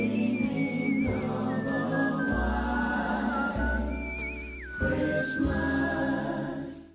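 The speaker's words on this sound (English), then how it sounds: "I really like the part with the whistling." A melodic whistle carries a wavering tune over a backing track of music, steady and fairly prominent throughout.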